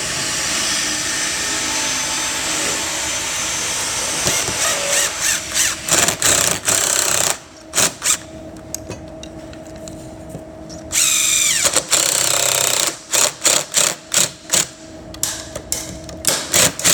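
A power drill bores into the side of a wooden miter joint laid flat on a table, whining in repeated bursts with short pauses between runs, loud and close with no talking.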